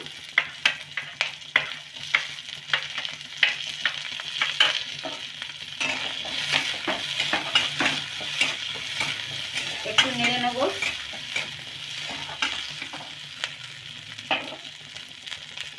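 Beans stir-frying in a pan for spring roll filling, a steady close sizzle broken by repeated clattering strokes of a spatula against the pan, with a short squeaky scrape midway.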